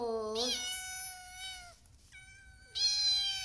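A domestic cat gives two long, clear meows close by, the first rising then holding steady and the second starting after a brief pause, with quiet room noise between them.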